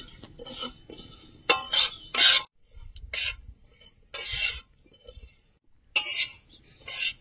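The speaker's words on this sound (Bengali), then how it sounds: "অনবরত নাড়তে হবে, লোহার কড়াই তো খুব সুন্দর তাড়াতাড়ি ভাজা হয়ে যাবে" Food fries in an iron wok as it is stirred constantly, bursts of bright scraping and sizzling broken by short quiet gaps, with light metallic clinks near the pan.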